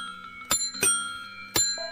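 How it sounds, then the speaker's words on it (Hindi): A bicycle bell rings sharply three times in irregular succession, clear and close against a quiet background. "12 बजे के बाद जैसे तो साइकिल की घंटी बजती है"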